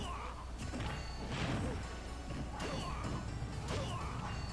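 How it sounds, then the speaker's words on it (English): Repeated heavy smash hits and swooshing swings from Captain Falcon's side smash attacks in Super Smash Bros., several sharp impacts spaced across a few seconds over a busy game-sound background. "Lots of side smashes coming from Captain Falcon's side."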